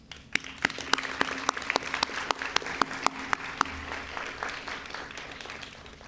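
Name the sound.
applause at a graduation ceremony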